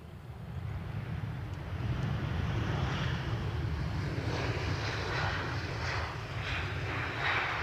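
Emirates Airbus A350 airliner arriving at Edinburgh, a steady broad jet roar holding loud and constant throughout, close and unbroken with no voices.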